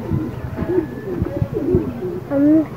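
Racer pigeon cooing close by in a loft, several soft throaty coos in a rolling rhythm, with a longer, louder coo near the end.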